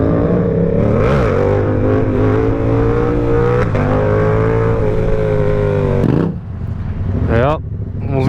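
A Yamaha sport bike (R7 or MT-07) on a London street revs hard and holds a loud, near, droning engine note as the rider lifts a wheelie, with two sharp rising revs near the end.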